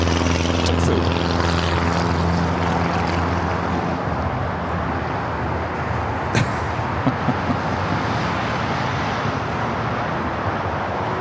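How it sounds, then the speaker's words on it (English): Japan Airlines Boeing 777-300ER taxiing at LAX toward a south side takeoff: a steady, loud broadband jet engine roar that holds throughout, with a brief sharper burst midway and no talk. "777-300ER heading down for a south side takeoff"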